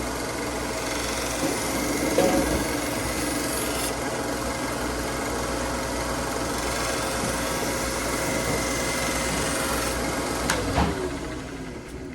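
A knife is sharpened on an electric sanding belt machine: a continuous loud motor whir with the abrasive rasp of the blade against the moving belt, steady for the whole stretch with slight surges.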